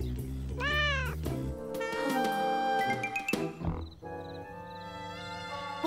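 A cartoon cat lets out a loud, wavering meow over a lively cartoon music score, with brief sound effects and a voice mixed in.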